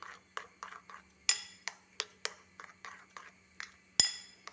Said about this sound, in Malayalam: ഇനി ഇതും എല്ലാം ഒന്ന് മിക്സ് ചെയ്യാം.